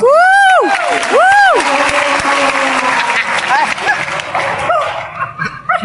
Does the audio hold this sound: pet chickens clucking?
no